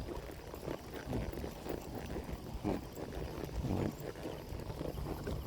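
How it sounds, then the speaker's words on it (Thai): A ridden horse's hooves clip-clop on the ground in an irregular, fairly close rhythm over a constant rumbling background, with no talk. "พึ่งวิ่งม้าเสร็จแล้ว"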